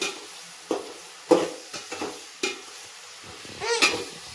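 Onions frying in a pan with quiet sizzling under repeated stirring scrapes and clinks of a utensil against the pan, close by, with no voices.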